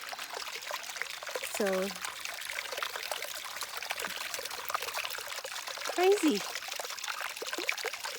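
A small moss-covered creek forming lime terraces in the Ammer Valley, Upper Bavaria, trickles steadily at close range, with brief talking and a couple of short vocal sounds over the flow.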